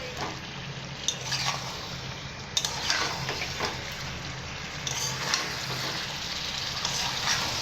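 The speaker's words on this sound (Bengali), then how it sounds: "এইভাবে দু মিনিটের মতো কষে নেব ভালোভাবে কষে নিয়েছি" Green jackfruit curry being stir-fried in a pan, a soft, steady sizzle with occasional spoon taps and scrapes against the pan, fairly close and quiet, with no talk.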